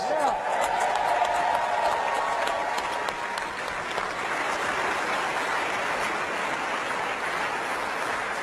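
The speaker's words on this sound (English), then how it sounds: "Let's give them another round of applause." Large crowd applauding steadily throughout, a dense wash of clapping at a space mission event, with a few faint voices mixed in.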